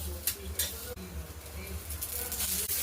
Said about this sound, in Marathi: टमाटरला या पद्धतीने उलटपुलट करून मिरच्यासोबत भाजून घ्यायचं। थोड्या थोड्या मिरच्या आणि टमाटर भाजल्या गेल्यावर याच्यावर तेल टाकायचं।